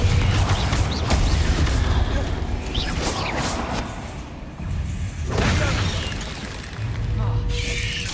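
Confringo fire spell being cast in the Hogwarts Legacy game, a string of booming blasts and crackling impacts amid dense, loud combat noise, with brief quieter gaps between bursts.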